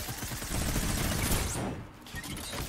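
Rapid, dense bursts of video game gunfire rattle continuously up close, loud and crackling, briefly thinning before resuming.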